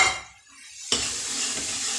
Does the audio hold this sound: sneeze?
no